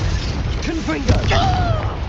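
A Confringo spell goes off in the video game Hogwarts Legacy, a quick burst and thud followed by whooshing, whistling magical tones, heard close over dense game ambience and chatter.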